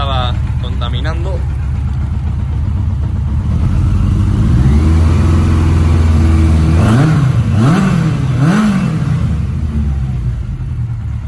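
A Yamaha XJR 1300 cafe racer motorcycle engine catches and settles into a steady rumble, then revs up and down several times in quick swells close by.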